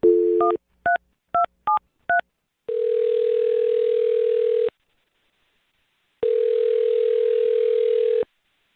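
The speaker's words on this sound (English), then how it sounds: "I'm going to dial her phone number right now." A landline phone plays a quick run of five short DTMF dialing beeps, then two long, steady ringback tones separated by silence, loud and clear with no talk.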